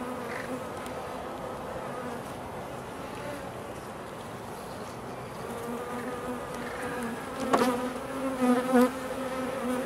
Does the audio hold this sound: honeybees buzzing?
yes